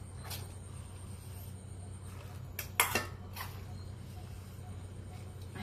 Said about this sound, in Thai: เดี๋ยวเราก็จะตักใส่หม้อเลยนะคะ